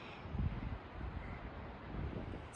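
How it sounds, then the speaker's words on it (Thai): Strong wind outdoors in the mountains near Mammoth Lakes, a continuous low buffeting rush across the microphone, moderate and steady with gusty swells and no voices. "ลมแรงนะคะอาจจะได้ยินเสียงลมนิดนึง"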